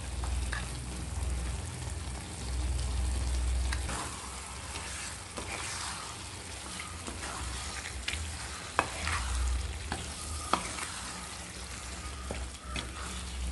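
Mango pickle masala is stirred in a pan over the stove, with a low bubbling sizzle, steady scraping of a spoon and a couple of sharp clicks against the metal.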